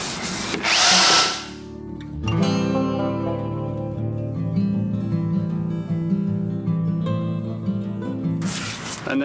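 A sanding wheel spins on a power drill, stripping rust from a van's body panels. A loud grinding burst opens, then a steady motor whine runs before a second gritty rasp of abrasive against metal at the end.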